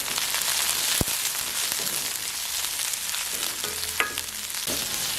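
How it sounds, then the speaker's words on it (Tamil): Food sautés in a pan over a high flame with a steady, close frying sizzle, broken by a sharp utensil knock near the start and another clink later. "நல்லா வதங்கட்டும்"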